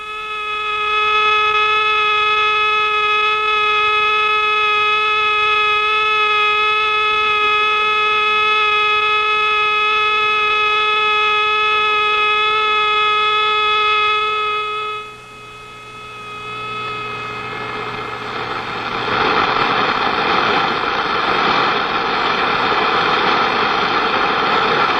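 A sonified velocity signal from a hot wire anemometer in a turbulent jet flow: a steady tonal note with stacked harmonics for about fifteen seconds, then a rough, broadband turbulent hiss that swells and persists to the end.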